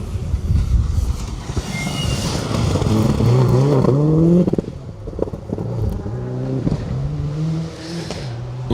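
A yellow Subaru Impreza rally car on a forest stage at the Greystoke Stages, its engine revving hard and climbing through gears, then dropping as it backs off and pulls away, moderately distant.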